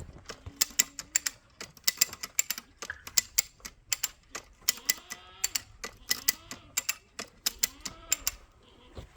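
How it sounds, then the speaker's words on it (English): Fence tensioner ratcheting as fence wire is tightened on a goat and sheep farm, giving a steady series of sharp, close metallic clicks in a quick, fairly even rhythm, with no talking. "as I'm clicky clacking here, the fence is getting taut"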